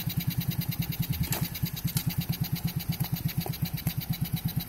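A four-wheeler ATV engine idling in gear, a close, rhythmic low putter that pulses steadily throughout, with a few faint clicks on top.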